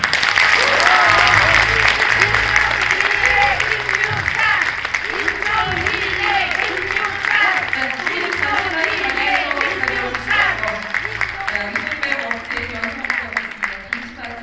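An audience at a presidential candidate's campaign speech breaks into loud, sustained applause, dense clapping that slowly thins, with voices talking over it.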